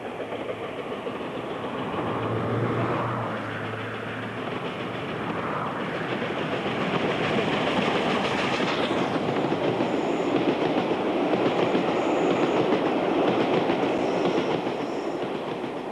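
A steam special train rumbles past at moderate distance heading north on the approaches to Hellifield, a steady rolling roar with faint clickety-clack from the wheels, building slightly toward the end.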